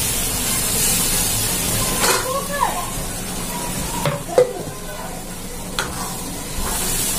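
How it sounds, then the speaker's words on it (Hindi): Masala spices sizzling and frying in a pan, a steady close hiss with occasional louder stirring scrapes, under light background room noise. "तो देखिए मसाला भून रही हूँ"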